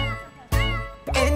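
A cat meows twice in a children's farm nursery rhyme, two clear, close, tonal calls about half a second apart, the second rising and bending, over a light musical backing.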